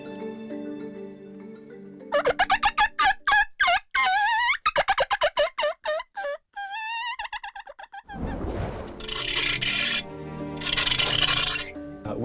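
Predator mouth call blown to imitate an animal for game sound design, a run of sharp, wavering squeals and yelps in quick bursts, followed by breathy rasping noise, close and loud.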